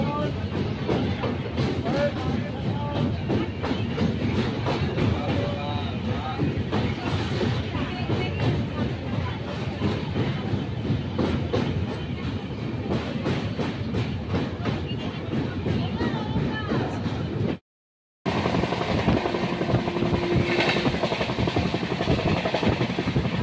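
Train ride back from Digha toward Howrah, with the steady rumble and clatter of the moving carriage and people talking over it. The sound cuts out briefly near the end before the rolling noise resumes.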